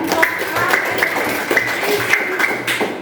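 Classroom students clapping together, a brief burst of many hands at close range with uneven rhythm, a faint steady tone and some room noise underneath.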